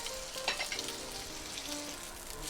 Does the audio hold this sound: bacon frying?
yes